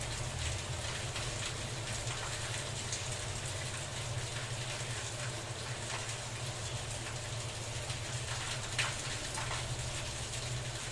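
Steady, dense rain drums on a roof in an unbroken hiss, with occasional sharper drops standing out; no voices.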